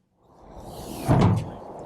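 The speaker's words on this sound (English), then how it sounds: "and you open the door like such" A Tesla Model 3 car door opens in a single brief thud and swish close by, rising out of quiet cabin ambience and fading quickly.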